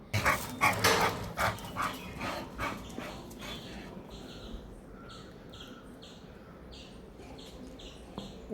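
An American Bully and her puppies bark in a loud run of close, overlapping yaps during the first few seconds. Softer panting and high, rhythmic whimpering squeaks follow.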